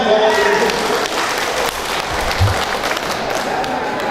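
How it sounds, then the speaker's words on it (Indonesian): Applause fills a debate hall, a steady crowd of clapping that stays fairly even for around four seconds with faint voices mixed in. "Tepuk tangan."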